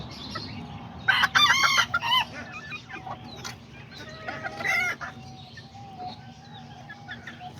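A small Serama or Azteca rooster crows loudly close by, followed by scattered clucking from hens over a steady low hum.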